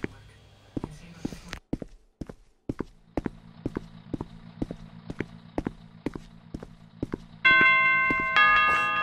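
A steady run of footsteps thuds along in the Roblox game FNAFcoop, then a bright, ringing bell chime sounds out near the end, loud and sustained.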